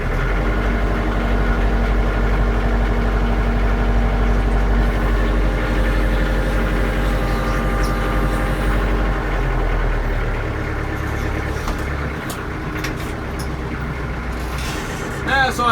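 A dirty tractor's engine idling nearby with a steady, loud low rumble and constant drone, the tone shifting slightly toward the end amid a few clanks.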